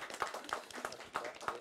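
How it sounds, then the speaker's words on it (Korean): A small forum audience at a science and technology policy panel gives brief, sparse applause, a few individual claps in loose rhythm, faint and somewhat distant. "큰 박수 좀 부탁드리겠습니다."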